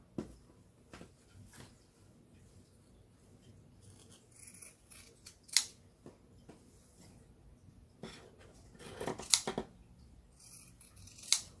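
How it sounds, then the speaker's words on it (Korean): Scissor tips snip into a narrow spot of fabric in short, irregular cuts for hand sewing, some crisp and sharp, others soft, close up in a quiet room. "이렇게 좁은 부분에서는 가위 끝을 이용해서 깊게 들어가 주고요."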